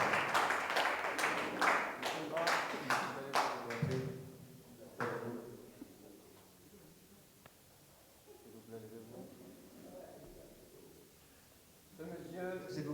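A press-conference audience breaks into loud, rhythmic clapping for about four seconds, then it dies away into a quiet room with soft murmuring and talk.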